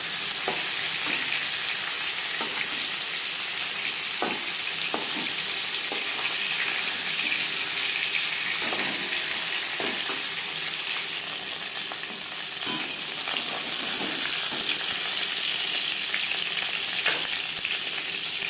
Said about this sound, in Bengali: একটা সাইড ভাজা হয়ে গেলে মাছ ও মাছের মাথা অপর সাইডটা